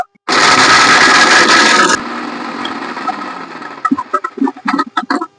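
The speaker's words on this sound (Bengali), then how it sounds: "এরপর ঢাকা চাপাটা লাগিয়ে দিচ্ছি এটা গুঁড়ো করে নেব" An electric grinder powders dried amla in a loud, high whirring burst that drops to a lower run as it spins down, followed by rattling and knocking of the lid and jar.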